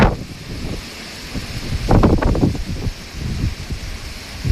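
Strong storm wind blows through a Thai forest, coming as a steady roar with louder rushing gusts and rustling, swelling sharply near the middle and again toward the end.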